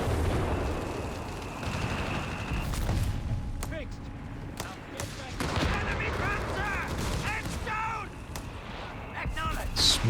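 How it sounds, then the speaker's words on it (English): Mortar shells from Company of Heroes 3 land in repeated heavy thuds and crumping explosions amid scattered gunfire, with voices talking over the battle noise. "We're taking some big hits from the mortar even."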